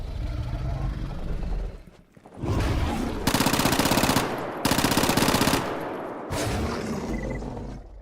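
Sustained automatic rifle fire in the shooter game STALKER GAMMA, two long loud bursts of rapid shots separated by a short gap, with other game sounds and quieter moments around them.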